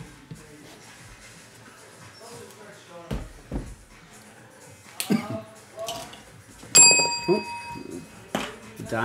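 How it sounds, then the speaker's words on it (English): A bell is struck once during a baseball trading card box break, ringing out sharply and then fading, amid rustling, packaging handling and scattered knocks. "hitting the bell there"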